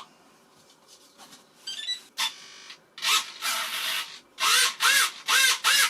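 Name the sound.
RC model servo driven by a servo tester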